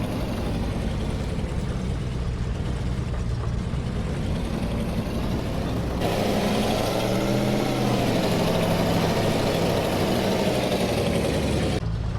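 A diesel farm vehicle in Farming Simulator 22 rumbles steadily at idle, then revs higher as it pulls away, a continuous close engine drone with no talk over it.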